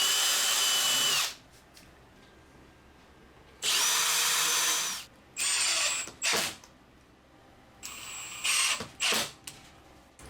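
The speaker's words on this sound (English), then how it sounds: "Countersinking bit." A power drill fitted with a countersinking bit bores into wood in several loud, close bursts of whining motor, separated by short pauses and ending with brief stop-start pulses.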